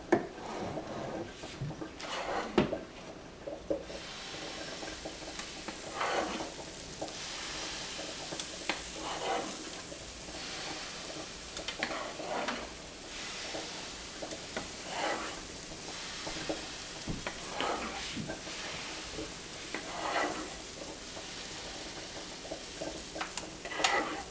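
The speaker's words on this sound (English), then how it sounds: "Now the pancakes should be on the griddle for about 9 minutes." Vegan pancakes cook on a hot griddle preheated to about 350 degrees, a soft steady sizzle with occasional scraping and light knocks, fairly quiet and without any voices.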